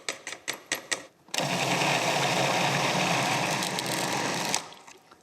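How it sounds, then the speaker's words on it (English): A kitchen blender purees cooked vegetables for a smooth soup, a loud continuous whirring roar of about three seconds, preceded by a few short pulses and then cutting off. "I strain off the stock and puree the vegetables."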